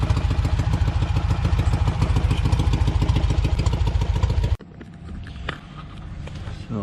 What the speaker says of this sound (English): My exhaust leak, it actually kind of sounds good at idle.